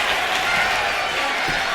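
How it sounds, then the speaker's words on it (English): A wrestling arena crowd reacts in a short burst of mixed cheering and scattered clapping, a dense roar of many voices at middle distance. "You hear the crowd. Some of them are not very happy. Some of them are happy. Some of them are ecstatic."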